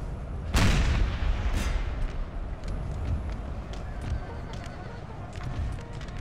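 Howitzers fire canister shot in the Napoleon: Total War video game, two loud close booms early on. Further shots and a rumbling battle din follow underneath.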